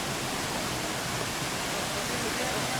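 Water rushing down cascading waterfalls at a monastery hermitage, a dense steady roar with no breaks.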